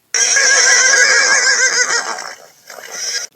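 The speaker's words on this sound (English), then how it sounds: "Horse, colt." A horse neighs loudly and alone, a long shrill whinny that wavers for about three seconds, dips briefly, then rises again before cutting off.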